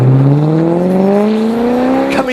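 Ferrari-built 4.2 liter V8 in a Maserati Quattroporte accelerating hard, a loud, close exhaust howl rising smoothly in pitch over a couple of seconds.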